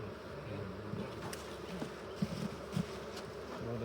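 Honeybees drone in a steady, low buzz around an open beehive during an inspection, with individual bees passing close by now and then over the continuous hum.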